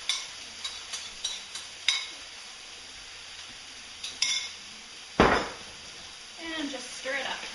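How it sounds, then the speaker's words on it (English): A spoon stirs food in a cooking pot with garlic in it, giving a few clinks and scrapes at the start, then a louder scrape about two-thirds of the way in. Soft sizzling runs underneath throughout. "And just stir it up here"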